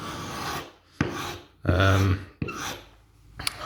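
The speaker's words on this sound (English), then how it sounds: "using this triangle scraper up here like this" A triangle scraper rasps across a plaster ceiling in several separate strokes, each a short gritty scrape followed by a pause, close and fairly loud.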